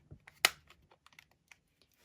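Calculator keys, some of them sticking, are pressed in a quick irregular run of small plastic clicks, close and fairly quiet, with one sharper press near the start.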